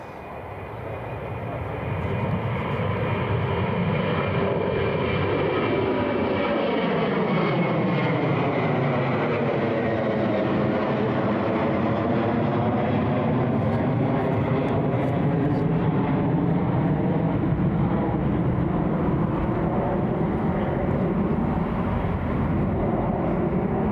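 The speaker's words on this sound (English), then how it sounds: "Ryanair's just departing, folks." A Ryanair airliner departing at Newcastle International Airport, its jet engines building to a loud, sustained roar with a slowly shifting whine as it passes, heard from outdoors without talk.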